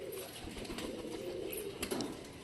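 Coos of a Rajshahi Giribaz cross pigeon perched up high, soft low murmuring calls repeating steadily close by, with a slight flutter near the end.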